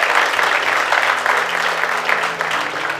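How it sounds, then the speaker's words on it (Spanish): Congregation at a church service breaks into sustained, loud applause that fills the room evenly with no voices standing out. "denle un fuerte aplauso a su Padre."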